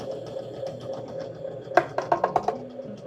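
Bread machine kneading dough after extra flour is added, a steady mechanical whir with a run of sharper knocking thumps toward the end, close and moderate, no speech.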